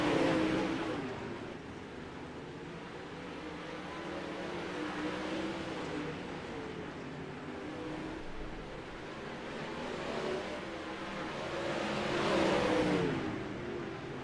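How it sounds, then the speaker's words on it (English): Distant 360 sprint cars roar around the dirt track during warm-up at Cedar Lake, a faint, blended engine drone that swells and fades as the cars pass. "Hayden Tollison is really using that car up in warm-up, trying to see just how much he can get out of it"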